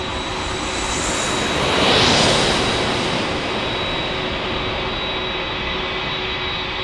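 An Alaska Airlines jet in West Coast Wonders special livery passes at San Diego airport, its engines a loud continuous roar that peaks around the two-second mark as it goes by, then settles into a steady rushing drone.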